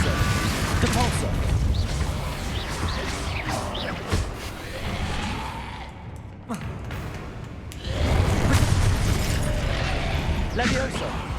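Spell casting in Hogwarts Legacy, with dense layered blasts, crashes and whooshing magical effects over a busy game soundtrack, loud and continuous with a brief lull partway through; a voice calls out spell names throughout.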